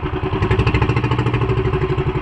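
A small fishing boat's engine chugs close and loud in a fast, even pulsing rhythm of mechanical beats with no speech.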